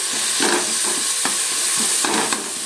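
Tomatoes and onions frying in a pan while being mashed and stirred, a steady sizzle broken by repeated soft scraping pushes of the spoon, close and alone with no talk.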